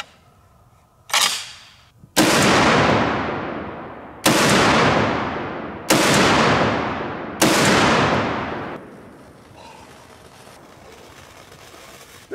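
.50 caliber rifle firing at a 150 lb slam ball: four loud, booming shots spaced about two seconds apart, each with a long rolling echo, after a smaller sharp crack, then fading outdoor ambience.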